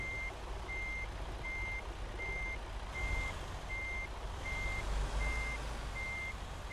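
Evenly spaced reversing beeps from a truck backing a trailer in American Truck Simulator, about ten steady pulses over a low engine rumble, with no talking.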